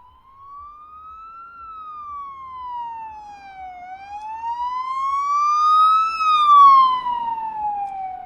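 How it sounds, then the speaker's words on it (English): A single electronic ambulance siren sound effect, rising and falling slowly, steady and clear, growing louder toward the end. "I think that fact deserves some sort of sound effect. Ambulance."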